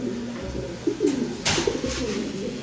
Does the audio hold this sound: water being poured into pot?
no